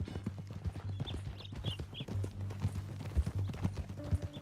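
A horse's hooves clip-clop steadily at a walking pace in Red Dead Redemption 2, close and fairly loud, with ambient game sound and a faint tone entering near the end.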